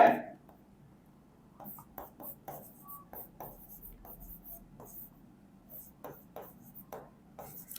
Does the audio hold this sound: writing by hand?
yes